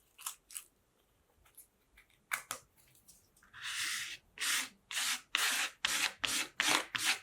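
A card scrapes over a paper collage in short, crisp rasping strokes, a few sparse scratches first and then a regular series of louder, longer scrapes, close to the microphone.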